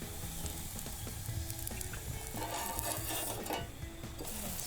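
Pancake batter sizzles in a pan for a camp breakfast, a steady crackling hiss with occasional clinks and scraping of utensils, close and continuous without speech.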